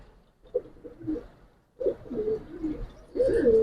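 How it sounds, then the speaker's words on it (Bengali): A Giribaz pigeon coos nearby in several short throaty bursts separated by pauses, fairly loud against a quiet background. "এটা অনেক তেজি একটা কবুতর"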